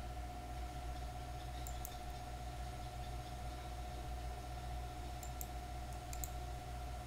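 A computer mouse clicks a few times while working in Google Sheets, small sharp clicks in two brief clusters over a steady low hum, with no talking.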